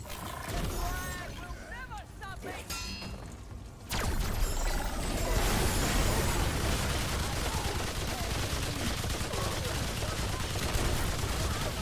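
Rapid gunfire from a gun in Remnant 2, a loud sustained barrage of shots that starts sharply partway through and continues to the end, with a voice talking briefly before it.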